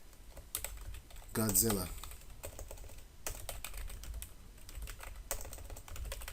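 Quick clicking keystrokes on a computer keyboard come in bursts close by, with a voice talking over part of the typing.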